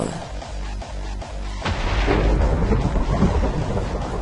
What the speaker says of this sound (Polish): Chwila, poczekam i zobaczę, gdzie walnie piorun.